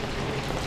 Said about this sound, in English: Just got out of the rain a little bit.